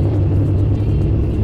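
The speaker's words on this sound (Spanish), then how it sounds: "Como que el sonido está un poco saturado del tráiler" A Kenworth T680 tractor-trailer engine rumbles steadily, a loud, continuous low drone that sounds close by and slightly distorted.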